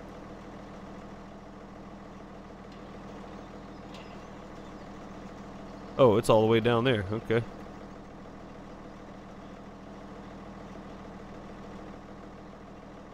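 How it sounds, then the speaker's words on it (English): A tractor engine idles in Farming Simulator 17, a low, even hum that runs the whole time, while someone speaks briefly over it partway through. "We're going to stick with this tractor for now."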